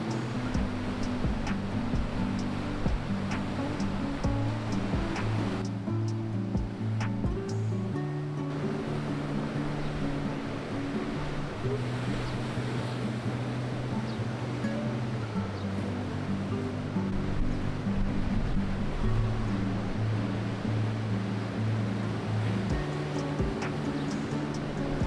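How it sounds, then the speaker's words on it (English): Sea waves surging against the shore of Malta on a windy day, a steady broadband wash of surf with gusting wind, continuous and fairly loud throughout, no voices. "I really liked the sound of the sea"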